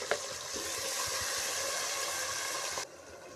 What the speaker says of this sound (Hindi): हमारा मसाला अच्छे से भून रहा है।